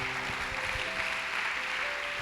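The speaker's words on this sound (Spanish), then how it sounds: "¿Alguien puede darle un aplauso al Señor?" A church congregation claps together in a sustained, moderate round of applause, steady throughout with no voices on top.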